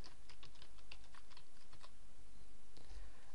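Light clicking of a computer keyboard as a short title is typed, a brisk run of soft keystrokes over a steady background hiss, then a brief pause and one or two more taps.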